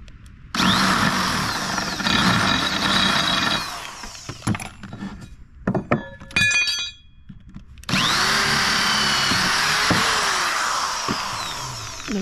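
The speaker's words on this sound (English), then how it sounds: "I'm going to drill a hole" Power drill boring holes through a metal bracket and 2x4 lumber, loud steady whirring runs broken by a stretch of short clicks and bursts before the motor spins up again, close by and alone.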